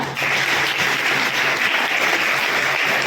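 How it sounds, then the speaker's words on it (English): An audience at a school award function for exam toppers gives the chief guest a big round of applause, a continuous dense roar of clapping, loud and even from start to end. "So please give a big round of applause for her."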